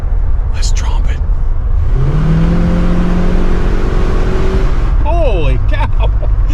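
A 1972 Cadillac Eldorado with a 500 cubic-inch V8 at full throttle, a loud, close engine roar climbing steadily in pitch for a few seconds, with people talking just before and after.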